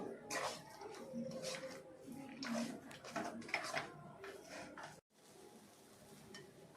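A ground spice mixture being stirred into mashed banana flower and potato produces soft, uneven scraping and mushy stirring sounds from a utensil in a pan, fairly quiet and close, ending abruptly.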